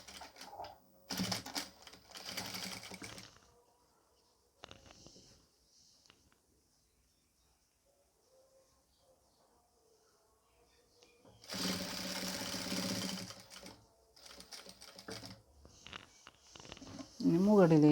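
A domestic sewing machine stitching an N-style nighty runs in two clear bursts of rapid mechanical whirring, one short and one longer, separated by quiet handling noises, with someone talking in between.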